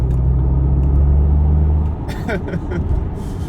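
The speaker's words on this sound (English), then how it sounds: "Now if I put it into the sports mode, we're going to go 3, 2, 1." An MG Cyberster GT in sports mode: a steady low engine drone for about two seconds, then a rougher, rising rumble as it accelerates, with faint clicks and road noise close by.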